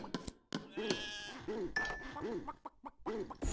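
Repeated sheep bleats in the video game Simmiland, four or five wavering cries in close succession, with clicks and short electronic tones between them.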